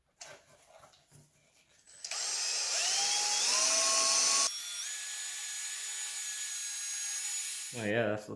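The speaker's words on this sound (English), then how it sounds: "So I'm going to do a couple more passes on this for buffing on the outside." Power buffer polishing a plastic signal lens on a 1988–91 Honda Civic, a loud steady whirring motor tone that shifts pitch as pressure changes, after some handling noises, with a voice briefly at the end.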